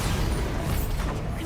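Bombarda spell blast from Hogwarts Legacy, a dense low rumbling burst with crackling debris and mechanical creaks, loud and sustained throughout without voices.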